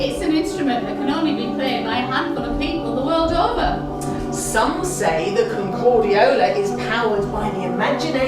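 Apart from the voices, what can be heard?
No distinct noise like a dog, phone or traffic.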